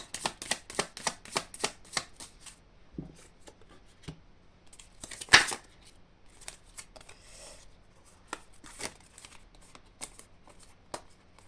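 Tarot cards are shuffled in a quick riffling run at first, then quieter shuffling, card slaps and handling sounds follow at close range, with no talking.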